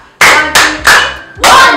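Four loud, sharp claps ring out close up in an uneven rhythm, each with a short reverberant tail.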